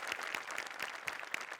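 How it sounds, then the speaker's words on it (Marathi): Audience applause for a guest on a Marathi comedy stage show, a dense steady clatter of many hands with sharper claps standing out, sustained and fairly loud throughout with no talk over it. "जोरदार टाळ्या."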